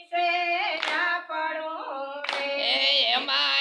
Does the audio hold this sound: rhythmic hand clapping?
yes